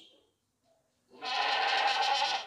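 A large, well-fed male sacrificial goat for Qurbani lets out one loud, drawn-out bleat lasting over a second, close by, after a few faint sounds.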